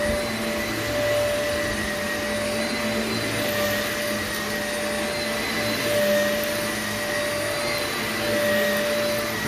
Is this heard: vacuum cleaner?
yes